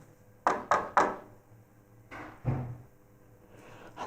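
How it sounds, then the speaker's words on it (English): A door in an old house bangs three times in quick succession, then gives two duller thumps, faint and somewhat distant in a quiet room. "That's the door."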